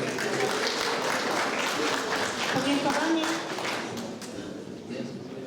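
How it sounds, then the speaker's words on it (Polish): Applause from the guests at a charity ball in Zalasowa, steady and dense for about four seconds, then thinning slightly toward the end, with voices mixed in under the clapping. "Brawa już były, ale jeszcze raz nie zaszkodził."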